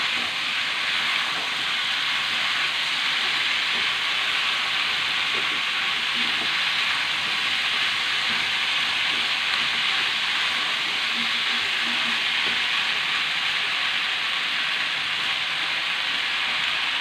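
Squash and sweet potato for pakbet fry in a pan with a steady, even sizzle and hiss that holds for the whole stretch, with faint stirring clinks underneath.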